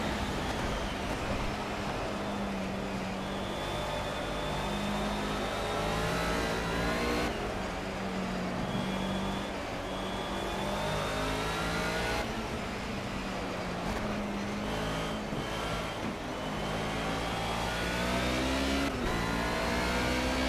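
Mercedes 190E race car in the Project CARS video game, racing at Brno in the rain: a steady, loud engine drone rises and falls through repeated revving and gear changes over constant road and spray noise.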